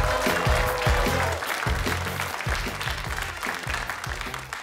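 Audience applause from a crowd, dense steady clapping that carries on throughout before fading slightly at the end.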